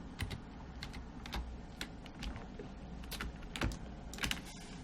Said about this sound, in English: I'm going to hit Y on the keyboard